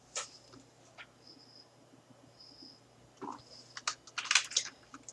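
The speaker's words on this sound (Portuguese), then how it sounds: "Vou digitar ela." Quiet keystrokes on a computer keyboard, sparse and widely spaced at first, then quickening into a denser burst of clicks near the end.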